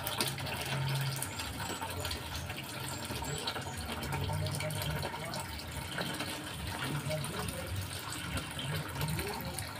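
Water gushes steadily into a tub for a child's bath for several seconds, a constant rushing pour with voices faintly audible underneath.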